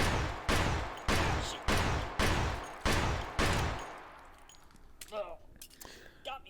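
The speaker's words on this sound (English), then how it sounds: "he does a sound check with an M1911 at the start of every video to make sure you don't blow out your eardrums with the sound of guns" Six loud, evenly spaced M1911 pistol shots fire in quick succession in the VR shooter Hot Dogs, Horseshoes & Hand Grenades, each with a short echoing tail, then fading into quieter clatter.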